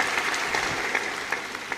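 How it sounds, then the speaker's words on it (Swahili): Mourners at a funeral service clap for the bishop, a dense, steady patter of many hands at moderate loudness, brief and continuous with a few sharper claps poking through. "hebu naomba tumpigie makofi mengi sana Baba Askofu"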